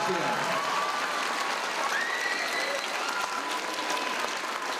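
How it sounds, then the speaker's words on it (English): A school audience at an elementary school Lunar New Year celebration in Chinatown applauds its teachers, with dense, steady clapping filling the space and some light crowd noise underneath. "How about a round of applause for all your teachers?"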